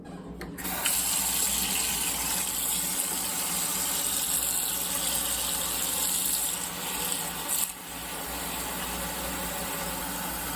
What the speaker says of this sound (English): Let's get some water into the pot